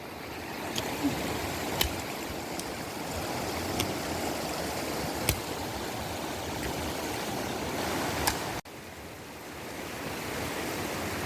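River water at Cinangka, Jalan Cagak, Subang, rushing in a continuous broad wash close to the microphone, with a few faint clicks and a brief dropout near the end; no voices.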